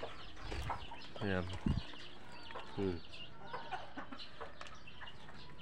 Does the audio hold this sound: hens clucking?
yes